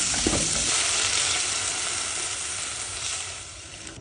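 Garlic, onion and tomato fry in hot oil with a steady, loud, close sizzle that eases slightly toward the end, followed by a sharp clatter.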